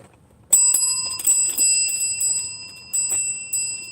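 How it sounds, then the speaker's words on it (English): A small hand bell rings bright and metallic in several separate shakes after a short silence, close and fairly loud, with no talking. "you like my little bell?"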